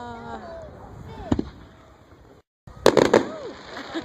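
Fireworks at a backyard firework show, with whistling launches rising and a few sharp cracking bursts in quick succession near the end. People talk nearby.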